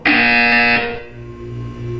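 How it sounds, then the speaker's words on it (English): A loud, harsh electronic buzzer in the Portal 2 video game sounds once for under a second, followed by a fainter lingering hum. "You will hear a buzzer."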